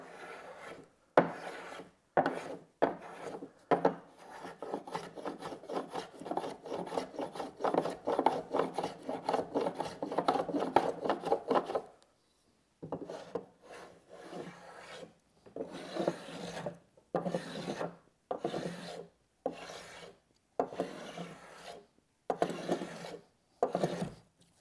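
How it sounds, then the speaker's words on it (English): A block plane shaves excess wood flush on the bottom of a wooden steamer trunk, making rhythmic rasping strokes that run in a quick steady series, pause briefly, then continue as slower, spaced passes. "And rather than sanding that, I like to use a block plane."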